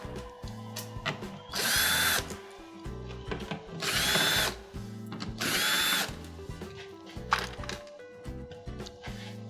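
A power drill backs out screws from a metal bracket on a GE cooktop frame, three loud whirring bursts of about a second each with quieter clicks and handling noises between them.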